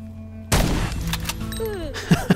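A shotgun blast in a video game, sudden and loud, followed by a reverberant tail, sliding synthetic effects and two sharp impacts near the end.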